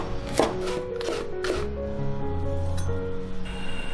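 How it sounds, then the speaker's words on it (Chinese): Carrots, garlic and green and red peppers being chopped on a board, a few sharp close knife thuds early, then quieter cutting under a low steady hum. "再来切几块胡萝卜， 蒜给它切成片，青红椒切成丝。"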